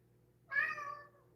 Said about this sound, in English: Enough with the meows, please.